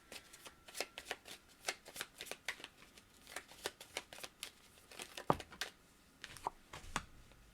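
Oracle cards shuffled by hand, heard as quiet, evenly spaced crisp flicks and slaps in a steady rhythm, close but soft, with no talking.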